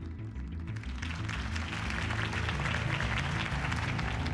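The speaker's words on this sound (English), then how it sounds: "If only Mr. Wayne, my campaign's largest backer, could have heard that applause" A crowd applauds continuously in Batman: The Telltale Series, dense clapping that swells and holds steady throughout.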